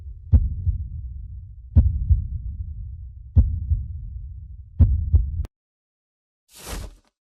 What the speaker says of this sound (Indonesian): Karena jantungmu deg-degan ya.